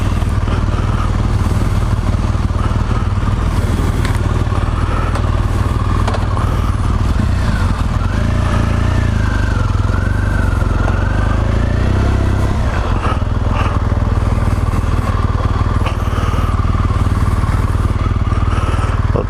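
A BMW 1200 GSA motorcycle engine runs loud and close throughout a demo ride, a steady droning rumble with rushing wind noise and some clatter over it.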